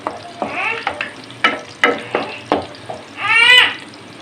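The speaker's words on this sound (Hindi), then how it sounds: "प्याज को हमने नाजरीन लाइट सा फ्राई करना है" Finely chopped medium onion fries in hot ghee with a close sizzle, broken by a series of scraping stirs and a louder, hissing burst near the end.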